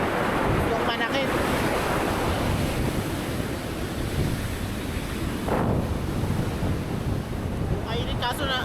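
Rough sea waves crash on a stormy, rainy shore in Quezon, a continuous loud churning surge with gusts of wind battering the microphone close by.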